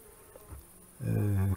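Honeybees in a hive: a steady, low droning buzz swells in after a quiet start and holds for about half a second before cutting off.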